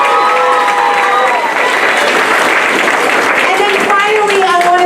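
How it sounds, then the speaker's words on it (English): Loud, sustained audience applause after a school production of The Lion King by kindergarten through 6th grade students, dense clapping with cheers and crowd voices mixed in. "Give them a round of applause."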